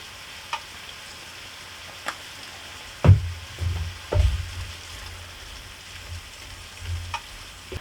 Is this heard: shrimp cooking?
yes